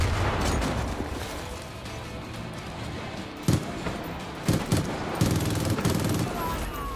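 Rifle gunfire in the video game Far Cry 5, heard as a few sharp bursts and single shots rising over a steady, noisy game background.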